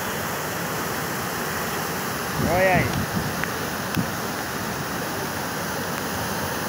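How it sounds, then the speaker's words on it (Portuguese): Water gushes through the opened floodgate of the Carpina dam at Lagoa do Carro, a loud, steady roar that runs throughout, while someone speaks briefly over it. "É uma lapada d'água, viu?"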